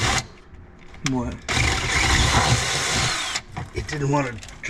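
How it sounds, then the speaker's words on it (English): A power drill whines in a sustained, grinding burst lasting a couple of seconds while drilling through metal and binding up, with brief talk before and after it. "It didn't want to drill through."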